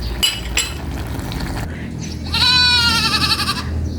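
Several goats bleat in a long, wavering cry on a hot farm, loud and close, after a short stretch of clattering and rustling; the animals sound heated and thirsty.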